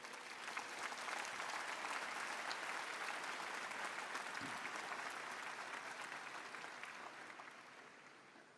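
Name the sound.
audience applause greeting the sick in Paul VI hall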